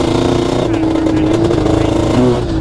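A Yamaha Banshee ATV engine drones loudly and steadily at close range while being ridden on rough hillside terrain, with a buzzy, unvarying tone and a slight pitch shift near the end.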